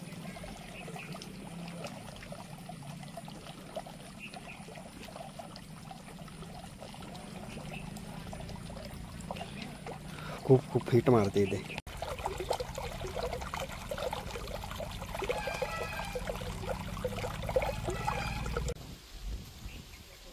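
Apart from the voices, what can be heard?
water bubbling in hot spring pool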